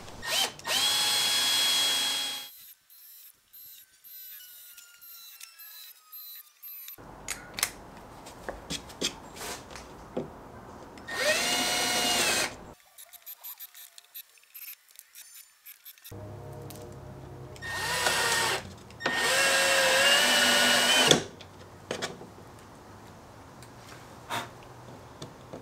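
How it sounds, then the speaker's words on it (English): A power drill pre-drilling holes whines in several long bursts with quiet gaps between them, close by and loud, with no voices. "I feel safer about running along and pre-drilling all of the holes at once"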